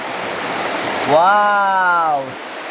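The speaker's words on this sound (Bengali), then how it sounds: "প্রচন্ড বৃষ্টি প্রচন্ড বৃষ্টি" Heavy rain pours steadily as a continuous broadband wash, with a loud tonal voice-like sound rising over it for about a second in the middle.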